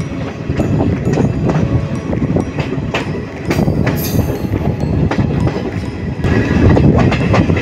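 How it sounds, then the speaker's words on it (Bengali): Kalka–Howrah Netaji Express rolling into Gaya Junction, a loud close rumble of rail cars with rhythmic clickety-clack and clanks heard from on board. "কালকা হাওড়া নেতাজি এক্সপ্রেস এখন ঢুকছে গয়া জংশন।"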